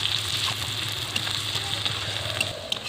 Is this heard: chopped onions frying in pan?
yes